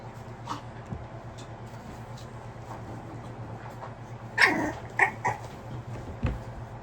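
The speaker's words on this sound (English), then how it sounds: "That's the female growling like that." A female dog growling and yipping at her nursing puppies, a few sharp vocal bursts near the middle over a low steady background hum.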